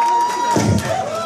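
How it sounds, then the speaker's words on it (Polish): Audience at a birthday club show in Poznań's ComeBack club cheering and applauding, a dense crowd roar with a heavy thump partway through, while a voice calls out over it. "Ogromne brawa dla Lady Lucindy."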